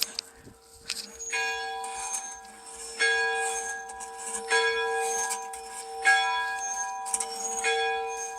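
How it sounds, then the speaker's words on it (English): A lunch bell rung outdoors at Kearney Mansion in Fresno, clanging in repeated strokes about every one and a half seconds, each with a bright ringing tone that sustains and overlaps into the next, fairly close and loud. "we're about to ring the lunch bell here"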